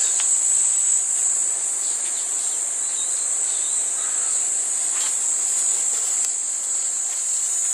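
A steady, high-pitched buzzing drone of cicada-like insects in Namibia fills the whole stretch, loud and unbroken, with no talking.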